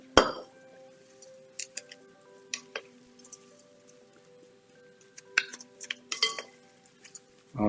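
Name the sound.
mixing kale salad with vinaigrette in a bowl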